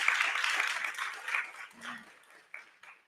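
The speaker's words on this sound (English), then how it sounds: "Everybody, a great big round of applause," Light applause from a small audience, quiet and thinning out as it fades, with a few scattered claps near the end.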